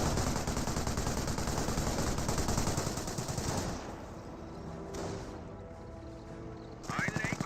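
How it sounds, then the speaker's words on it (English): Dense, rapid machine-gun and infantry rifle fire rattles loudly in Company of Heroes battle, an MG42 among the guns; the barrage thins after a few seconds while someone talks over it. "Volksgrenadiers starting to fire as well"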